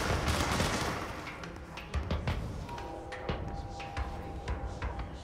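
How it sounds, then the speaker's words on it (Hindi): Gunfire from a firefight in the video game Control: scattered, quick shots crack at an irregular pace over a rumbling background, fairly faint and a little distant. "कौन शूट कर रहा है?"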